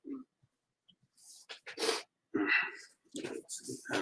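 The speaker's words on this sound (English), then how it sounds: "I'm going to sneeze" A single close sneeze, with breathy sniffs and snorts around it and no clear speech.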